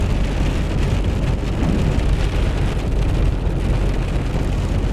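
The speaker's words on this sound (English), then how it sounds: "Try to get really heavy rain bands now." Heavy storm-band rain pours down in a steady, dense roar, unbroken and close, with no voices over it.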